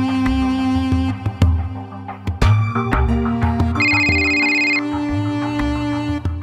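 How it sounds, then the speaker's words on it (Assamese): An incoming call on a mobile phone plays a bright melodic electronic ringtone, loud and close, with tonal notes repeating for several seconds in a domestic drama scene with no talking over it. "ৰেখাই কিয় ফোন কৰিলে"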